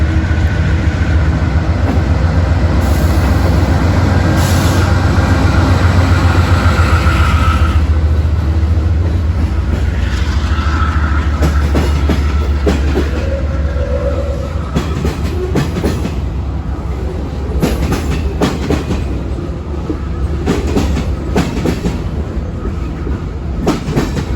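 A long freight train of boxcars rolls past at Decatur, Alabama, a loud continuous rumble with rhythmic clickety-clack of wheels over rail joints throughout.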